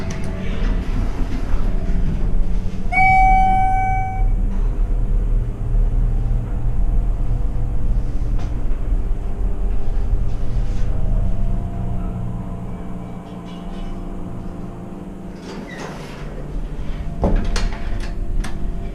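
A Schindler 300A hydraulic elevator motor hums with a steady low mechanical rumble during a ride in a closed Lord & Taylor store, with a brief high chime early on and some clunks and rattles near the end.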